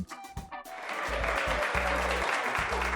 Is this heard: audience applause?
yes